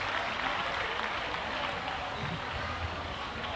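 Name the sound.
audience applause for Paqui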